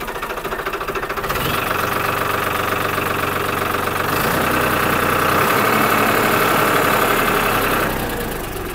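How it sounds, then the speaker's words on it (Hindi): A Farmtrac 45 turbo tractor engine revs up steadily and holds at a loud, rough, knocking roar close by, with a low mechanical rumble throughout. "यह इसकी साउंड है भाई ट्रैक्टर की रेस दी है थोड़ी"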